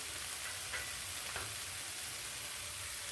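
Carrots, beans, potatoes and green peas fry with tomato in a pan for vegetable kurma, giving a soft, continuous sizzle with a few faint stirring scrapes. No one speaks.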